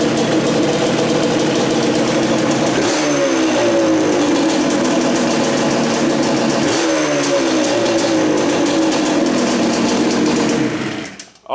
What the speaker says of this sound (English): See how I cranked it up and it immediately went right to its normal idle speed.